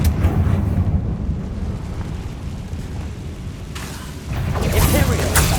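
A Confringo fire spell explodes in Hogwarts Legacy, a continuous booming rumble with brighter bursts of crackling blast toward the end, fairly loud and close.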